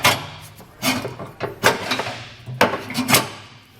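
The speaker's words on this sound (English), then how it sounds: "I'm going to just go ahead and actuate the handle a few times" A fifth wheel hitch handle on an underbed kit in a 2022 Ford F-350 Super Duty worked several times, each pull giving a sharp metal clack and rattle, with short pauses between actions, close by.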